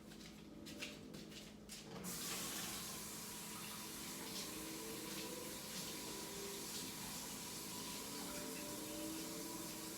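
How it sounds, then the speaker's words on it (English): Kitchen tap running steadily as a fork is washed under the stream, a constant close hiss of water with a few clinks and splashes at the start, no talking. "I'm gonna wash the fork."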